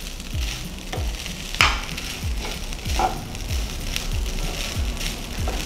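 Coconut rice being stirred in a pan, a spoon scraping and turning it in repeated strokes about every half second, with a soft sizzle underneath, close and fairly steady.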